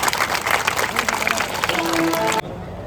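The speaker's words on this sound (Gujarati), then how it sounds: "આપણે જોરદાર તાળીઓથી એમનું સ્વાગત કરીએ." A crowd at a school enrollment festival applauds to welcome a guest, steady dense clapping mixed with crowd murmur and voices that ends abruptly.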